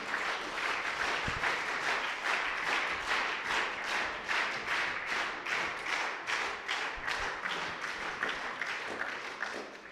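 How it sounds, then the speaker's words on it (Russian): Audience applause fills the hall at the close of a music college concert evening, a steady dense wash of many hands clapping throughout, fairly close and sustained with no voices over it. "Аплодисменты"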